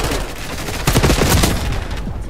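Rapid bursts of automatic gunfire from the Call of Duty Black Ops 6 multiplayer game are loud and dense, with repeated sharp shots and no talk.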